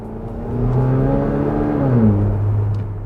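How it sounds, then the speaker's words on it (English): A Chevrolet Corvette with a bimodal exhaust revs up and settles into a deep, rumbling exhaust drone, rising briefly in pitch before dropping back to a low growl. "that bimodal exhaust is there for theatrics rather than action"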